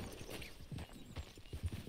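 Horse hooves clip-clop in Red Dead Redemption 2, a quick run of soft, close thuds in an uneven trotting rhythm.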